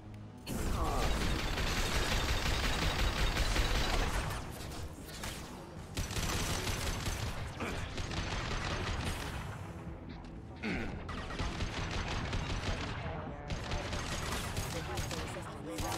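Gunfire in the sci-fi shooter Mass Effect 2, a loud continuous barrage of mechanical weapon fire and clattering action over dense game sound, with a brief lull midway before the firing resumes.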